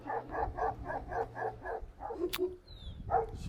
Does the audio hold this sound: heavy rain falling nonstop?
no